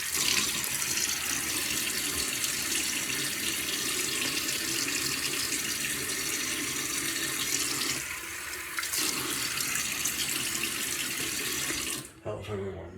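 Water runs steadily from a sink faucet in a bathroom for wetting the face before a shave, a continuous close hiss that dips briefly near the end and is then shut off.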